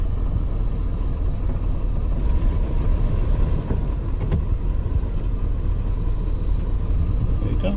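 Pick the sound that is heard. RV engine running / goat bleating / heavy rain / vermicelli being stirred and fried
RV engine running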